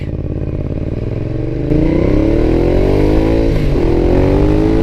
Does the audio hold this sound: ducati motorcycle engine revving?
yes